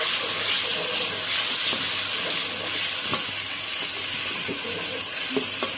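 Mixed vegetables with ginger garlic paste fry in a pan, hissing in a continuous close sizzle broken by occasional clicks and scrapes of stirring, with no talk.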